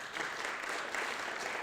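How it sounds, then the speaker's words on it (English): Steady, fairly faint applause from an audience at a Europan 17 Sweden launch event, a brief continuous patter of many hands with no voices over it. "Shouldn't we give that round of applause?"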